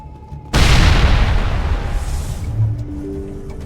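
A grenade detonates in the Mass Effect video game, one sudden loud blast whose rumbling boom slowly decays over a few seconds into quieter game ambience.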